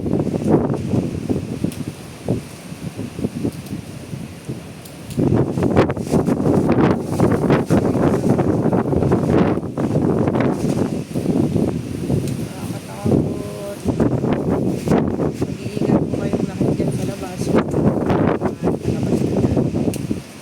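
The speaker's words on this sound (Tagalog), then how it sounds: "Pabugso-bugso talaga yung hangin." Gusty typhoon wind during a T10 storm signal in Hong Kong buffets the microphone in strong surging bursts, louder after the first few seconds, with a person talking intermittently over the roar.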